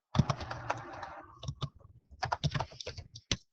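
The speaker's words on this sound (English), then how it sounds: "If I can type." Rapid typing on a computer keyboard, a run of close, crisp key clicks with short pauses between bursts.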